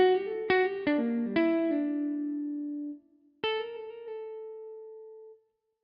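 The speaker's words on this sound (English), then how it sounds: "Legato mode 1 gives you hammer-on and pull-off transitions that sound like this." Sampled guitar from a sample library plays legato lines, with hammer-on and pull-off transitions linking clean plucked notes: a quick run of four notes, a held tone that fades, a pause, then one more plucked note ringing out alone.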